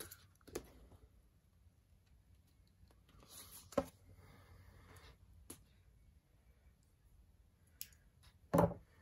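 Scissors trimming a sticker while planning, a few faint, sparse snips and paper clicks in a quiet room, with a sharper cut near the end.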